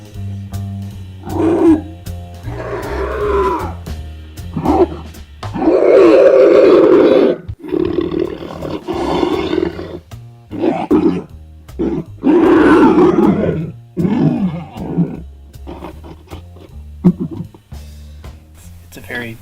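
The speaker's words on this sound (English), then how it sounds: "with the magic of audio filters applied in real time, he sounds like this." A voice actor's monster roar, processed through real-time audio filters, comes as a series of loud, guttural bursts of growling and roaring with short pauses between them, close and alone.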